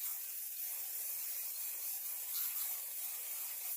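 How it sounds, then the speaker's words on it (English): Hairspray misted from an aerosol can onto hair, a soft continuous hiss lasting a few seconds, faint and close, cutting off at the end. "I'm going to take some hairspray"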